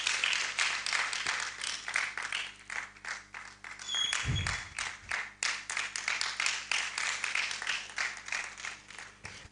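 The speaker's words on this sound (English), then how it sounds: "with a hand of applause" An audience claps at a university research awards ceremony, a loose run of claps that rises and falls over several seconds, with one dull thump partway through.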